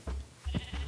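A sheep in Minecraft gives two or three short, nasal bleats, close and moderately loud, with no talking.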